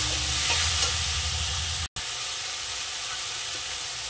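Tomatoes with turmeric cook down in a pan for a mustard-poppy fish curry, giving a steady close sizzle with a brief break in the middle.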